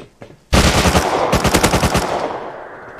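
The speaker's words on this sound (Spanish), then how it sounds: "¿La dispara el bot al otro bot," Loud automatic gunfire from bots in the game Rust, a sustained close burst of rapid rattling shots after a couple of faint pops, trailing off into an echoing decay.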